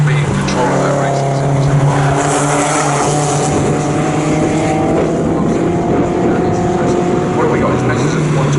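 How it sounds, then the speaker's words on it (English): A race car in a Z Cars race at Snetterton circuit passes close and loud, its engine note rising and falling as it goes by, while a commentator talks over the sound. "Leader comes through again, 9 laps completed for Ed Giddings."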